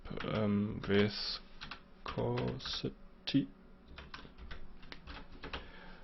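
Computer keys are tapped in quick clusters close by, mixed with a person speaking at the start of the stretch.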